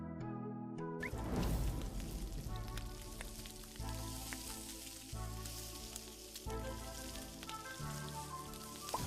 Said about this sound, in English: Try sauteing minion meat in the kitchen